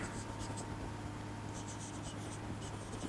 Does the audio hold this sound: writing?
yes